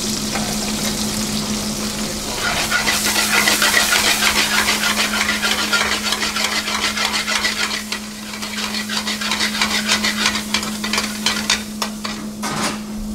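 Chilli paneer with onion and capsicum frying in a restaurant kitchen pan, loud continuous sizzling with metal utensil scraping and stirring clatter, a steady hum of kitchen equipment beneath.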